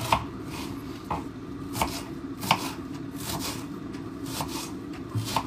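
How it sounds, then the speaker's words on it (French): Knife chopping an onion on a board: a steady series of sharp, close chops at a regular rhythm, moderately loud, with no talking. "c'est très désagréable de devoir couper un oignon"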